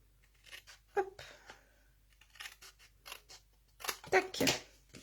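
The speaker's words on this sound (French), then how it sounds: "on utilise soit les ciseaux, soit le massicot" Paper being cut with scissors or a paper trimmer during a crafting project, heard as a few crisp snips and crunchy slices, with the loudest cuts bunched near the end and light handling sounds between them.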